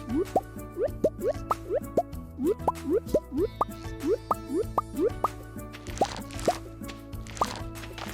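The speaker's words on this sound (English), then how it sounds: "I picked my forageables, a very satisfying sound" Quick bubbly plops from picking up forageable items in Stardew Valley repeat in a rapid, uneven rhythm over soft background music, bright and close.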